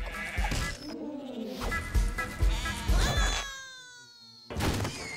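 Sheep bleat in a cartoon farmyard setting, a few short calls mixed with music, bangs and other animated sound effects, loud and close.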